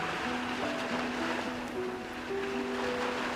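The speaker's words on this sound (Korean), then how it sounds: "이쪽에서 나는 파도 소리는 뭔데?" Ocean waves washing steadily in the background of a video call in the game Love and Deepspace, a soft continuous surf wash with faint tonal music lines over it and no talk.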